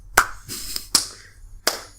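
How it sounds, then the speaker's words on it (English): Four sharp hand claps struck close to a microphone, irregularly spaced and loud against near silence, with no talking. "Clap right into that microphone."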